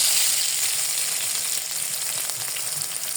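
Potatoes frying in oil in a pan for a home-style fish curry, a steady close sizzle and crackle running throughout with no talking.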